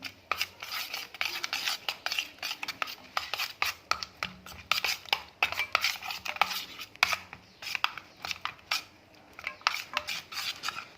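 A metal spoon stirs ground spices into yogurt in a bowl, giving a steady run of quick clinking scrapes and taps against the dish, close and fairly loud, with no talking.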